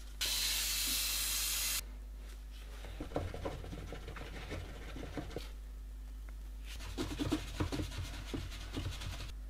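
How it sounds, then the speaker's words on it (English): A short burst of spray from a Worth interior cleaner into the inside of light-colored shoes, followed by quieter scrubbing and scratching strokes, then a second stretch of brisk brushing. "Give them a good clean on the inside with the Worth interior cleaner."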